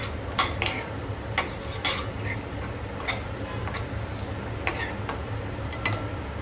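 Red chilli powder and coriander powder are stirred into green chillies in a pan, with a soft sizzle under sharp, irregular clinks and scrapes of a spoon against the metal pan.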